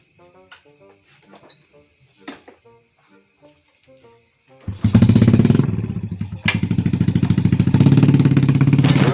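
An old Honda Supra motorcycle engine starts up partway through and runs steadily, a loud close rumble after quieter scattered sounds at the start, with a brief dip before it settles back into a continuous running drone.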